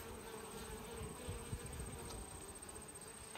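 Honey bees buzzing at an opened hive during feeding, a faint steady insect drone with a constant hum and nearby wingbeats, no voices.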